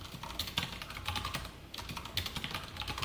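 Close, quick keystrokes on a computer keyboard while writing Java code in an editor, an uneven run of clicks with a brief pause midway, no voices.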